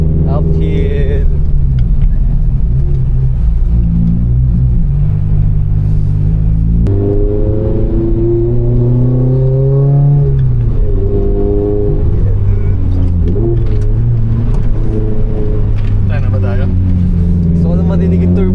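A boosted Subaru BRZ with a turbo climbs a mountain touge road, its engine droning loud and close as revs rise and fall through gear changes, with people talking over it inside the car.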